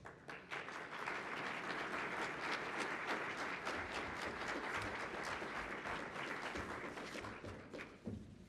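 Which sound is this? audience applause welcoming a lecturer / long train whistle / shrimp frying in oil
audience applause welcoming a lecturer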